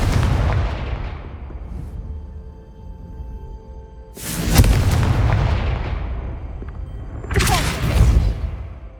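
Two loud, booming Confringo spell explosions from the Hogwarts Legacy video game, each a sudden blast that rumbles away, heard alone over a low, steady game ambience.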